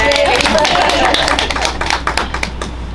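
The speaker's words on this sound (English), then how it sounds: "I feel like we should clap for that" An audience at a school board regular meeting claps together, a dense patter of hands that swells and then thins into scattered claps over a few seconds, with voices talking over it.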